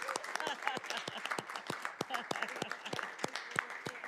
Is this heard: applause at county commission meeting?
yes